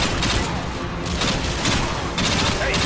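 Dense rapid gunfire from a Call of Duty: Modern Warfare 2 firefight, loud and close, with overlapping automatic bursts that barely pause for under three seconds.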